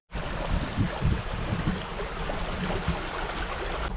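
A creek rushes and splashes steadily nearby, a continuous flowing wash with small bubbling pulses and no talking.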